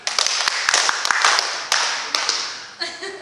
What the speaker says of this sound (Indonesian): Guru berkata, tepuk tangan 5 kali